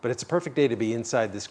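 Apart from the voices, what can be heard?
None of the usual background noises is heard.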